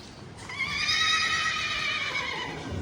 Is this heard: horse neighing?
yes